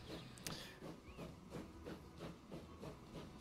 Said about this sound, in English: You can hear the steam engine and the birds twittering.